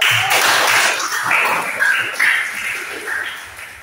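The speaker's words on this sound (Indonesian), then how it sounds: "Tepuk tangan" Classroom applause from schoolchildren: a dense burst of clapping that starts loud and slowly thins out, with young voices calling out over it.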